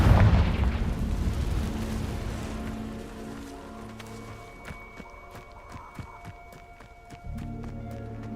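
A Confringo spell blast in Hogwarts Legacy, a loud fiery boom that rumbles and fades, followed by scattered crackling debris and a low hum, with another heavy burst near the end.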